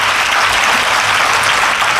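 Steady, dense applause from a large audience at a motivational talk, continuous and loud throughout with no voices over it.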